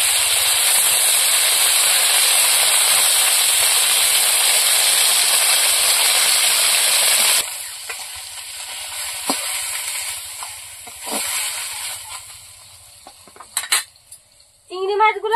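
Fish, with prawns to follow, frying in hot oil in a pan, a loud, dense hiss for the first half that drops abruptly, leaving quieter spattering and a few utensil clinks.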